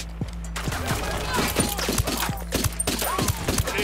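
Sustained gunfire from a fusillade in Ghost Recon Wildlands, sharp shots crackling close and continuous for several seconds, with a low rumble underneath and no clear talk.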